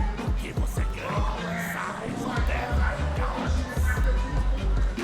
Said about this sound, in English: The crowd getting louder by the second as the match begins here